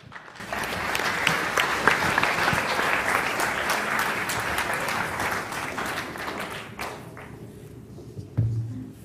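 A conference audience at the Prophets Conference in Glastonbury claps loudly to welcome speaker Kiesha Crowther, a dense roomful of applause that holds steady before tapering off, followed by a thump and brief talk at the end.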